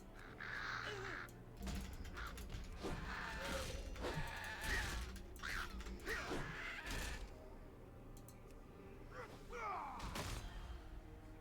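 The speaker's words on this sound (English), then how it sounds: "I'm gonna get attacked by these birds." Birds in World of Warcraft caw repeatedly in harsh, overlapping calls as they attack, with thuds and game effects in a dense, steady mix.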